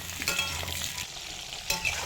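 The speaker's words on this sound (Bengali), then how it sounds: "এবার আলুটা ভেজে নেব।" Potatoes frying in hot oil in a wok (kadai), a continuous close sizzle with a couple of sharper stirring scrapes, no voices.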